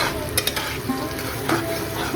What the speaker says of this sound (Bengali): টমেটো বাটা দিয়ে 2 থেকে 3 মিনিট খুব ভালোভাবে কষিয়ে নেব